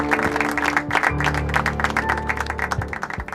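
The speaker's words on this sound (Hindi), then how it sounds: "तालियों से स्वागत कीजिए" Audience claps along with a loud music track, distinct individual hand claps standing out in an uneven rhythm over sustained tones and beats.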